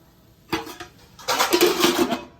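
Dishes and pots are shifted around a kitchen in two clattering bursts of metal knocks and scrapes, the second longer and busier, with no talking.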